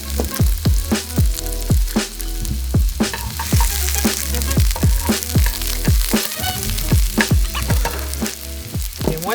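Chopped shallot sizzles loudly in a pan, a steady close-up frying crackle punctuated by repeated scraping and tapping of a utensil stirring against the pan in a regular rhythm, with no one speaking.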